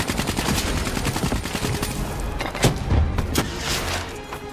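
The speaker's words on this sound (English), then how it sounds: "I think that's an MG." Rapid bursts of machine gun fire crackle continuously in a World War II scenario of the Black Ops 3 video game, dense repeated shots punctuated by a few heavier thumps, loud and close with no talk.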